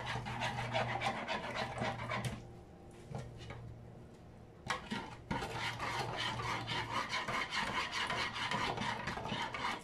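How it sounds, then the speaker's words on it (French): A spoon stirs a pork sauce with wine in a pan, giving soft repeated scraping and rubbing strokes with a short pause midway. The sound is quiet and close, with no talk. "je mélange tout ça."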